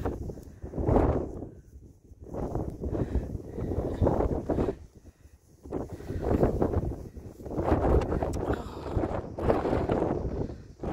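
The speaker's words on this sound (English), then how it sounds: "Oh, can't keep the phone still, it's so windy." Gusty wind buffets the microphone in uneven surges, roaring up and fading several times, with no speech over it.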